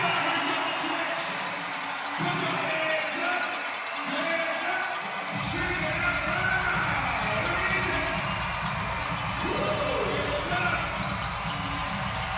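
Basketball crowd at Scotiabank arena during an NBL Canada game, Halifax Hurricanes vs Saint John Riptide, cheering and stamping that swells into a dense rumble halfway through, with an announcer talking over it.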